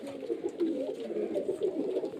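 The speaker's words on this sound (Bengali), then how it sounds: "প্রচুর পায়রা আছে পায়রাগুলো সবগুলো ছেড়ে দিয়েছে" Giribaj pigeons in Murshidabad coo softly and repeatedly in low, rolling throaty calls, close by with no other sounds.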